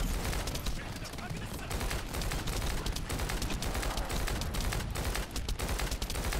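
Dense, sustained gunfire from the shooter video game The First Descendant, loud and continuous throughout with rapid overlapping bursts, probably with voices mixed in.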